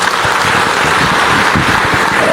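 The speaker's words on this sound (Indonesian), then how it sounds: "Tepuk tangan semuanya." Church congregation applauding, a dense, loud, steady roar of many hands clapping that fills the space without a break.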